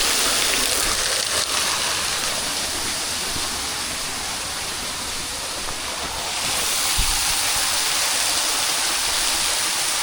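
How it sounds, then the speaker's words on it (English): Loud, constant roar of rushing, falling water from a waterfall, recorded standing right in it, a dense steady wash that barely changes and has no talking over it. "standing right in the waterfall."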